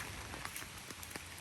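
Rain falls on a car being driven near Pacific Palisades, a soft steady patter with scattered sharper drop taps, quiet and close, with no talk.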